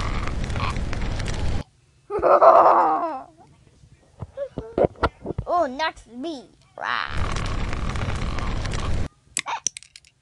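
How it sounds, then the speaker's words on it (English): During a Cars 2-themed burping contest, a few loud, croaky burps and grunts break out in turns, with pauses and people's chatter between attempts. "the Cars2 burping contest"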